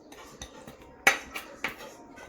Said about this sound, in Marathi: हे बघा आता थोडंसं कोमट असतानाच आपण असे कापून घेऊ